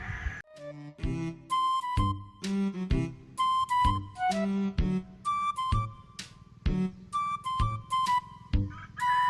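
Repeated clucking and crowing from fighting roosters, with bursts of sharp calls one after another, close and fairly loud.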